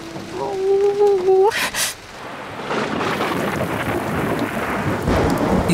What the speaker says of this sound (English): Julian, thunderstorms might sound scary, but they're not really.